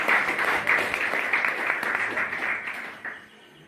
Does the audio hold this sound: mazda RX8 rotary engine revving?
no